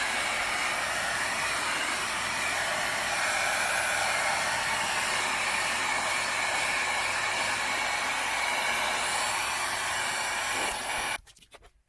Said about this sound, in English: grab our heat gun